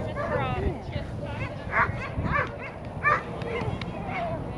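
An Ibizan hound puppy lets out several short yips and high barks, close by and scattered across a few seconds, mixed in with a person talking.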